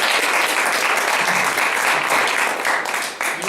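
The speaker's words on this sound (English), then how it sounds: "give him a round of applause for this." An audience gives a round of applause for a Marine Korean War veteran and Purple Heart recipient, steady and loud sustained clapping from a crowd that tapers off near the end.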